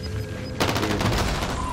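Gunfire in Call of Duty Modern Warfare: after a brief quiet moment, a sudden loud stream of rapid automatic shots runs to the end.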